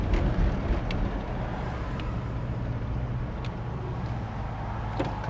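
A 1969 Plymouth GTX with its numbers-matching 440 engine drives along a road, producing a steady low rumble with road and cabin noise, heard from inside and continuous throughout without speech.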